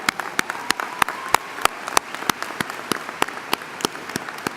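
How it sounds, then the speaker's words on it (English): A small group of family and friends at a graduation ceremony clap in sparse, irregular sharp claps that ring out separately over a soft room background. "Let's give them a round of applause for being here today."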